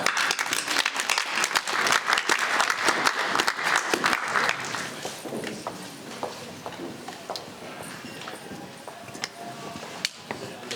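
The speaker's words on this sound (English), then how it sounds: "Round of applause for our first after-dinner panel, after lunch panel." An audience at an after-lunch panel session of a technology conference applauds in dense clapping for about four seconds. The applause then thins to scattered claps and fades.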